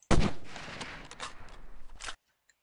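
Gunfire in the Delta Force shooter game: one loud, close shot cracks out, then a dense rattle of further shots and impacts follows for about two seconds before the sound stops abruptly.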